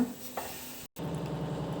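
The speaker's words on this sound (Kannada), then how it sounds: "ಈಗ ಹೆಸರು ಕಾಳನ್ನು ಒಗ್ಗರಣೆಗೆ ಹಾಕ್ಕೊಳ್ಳೋಣ" Green gram fried in a tempering of oil and spices in a pan, with a soft steady sizzle and a brief clatter of stirring, close and fairly quiet, with no talk.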